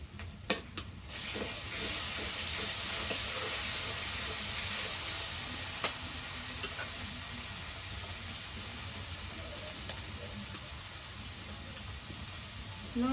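Onion and garlic paste frying in hot oil for a Bengali dish, a steady broad sizzle with steamy hiss and a few sharp stirring clatters at the start, continuing evenly and fairly faint throughout.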